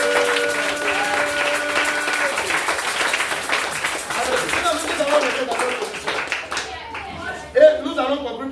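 Church congregation applauding and acclaiming Jesus at a French-language sermon, steady loud clapping and crowd cheering throughout, with voices and shouts mixed in and a sharp peak near the end.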